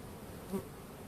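Honey bees hum around an open hive during a brood check in March, a soft steady drone throughout.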